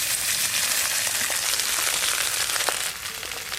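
Cooked rice is tipped into hot oil with whole garam masala, cashews and raisins in a pan over a clay stove, giving a loud, steady, hissing sizzle with faint crackles throughout and no voices.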